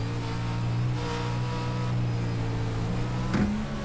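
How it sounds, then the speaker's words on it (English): A Pro2 off-road race truck engine drones steadily at low revs, lugging uphill under load, with a brief clunk near the end. "You can hear that truck really lugging, trying to get up the hill."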